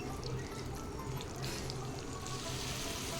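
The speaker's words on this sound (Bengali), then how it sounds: "আর সামান্য একটু হলুদ দিয়ে তারপর এখানে মাছগুলোকে আমি দিয়ে ভেজে নেব" Small shrimp frying in a pan with turmeric for a Bengali pumpkin-greens dish, a steady close sizzle and crackle of hot oil holding even and continuous throughout, with no talking.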